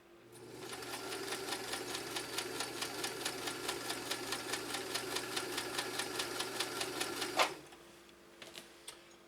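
A Kenmore sewing machine running a zigzag stitch: a steady fast mechanical rattle with regular needle beats for about seven seconds, then it stops, leaving a few faint clicks.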